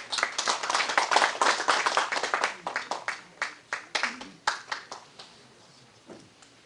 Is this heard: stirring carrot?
no